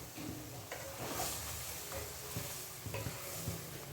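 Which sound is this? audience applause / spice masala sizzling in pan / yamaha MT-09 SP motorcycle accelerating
spice masala sizzling in pan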